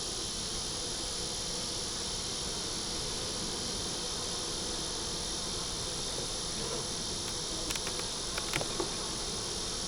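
A dense, continuous buzz of honeybees fills a hive inspection a month after setup, loud and close, with a few faint clicks toward the end.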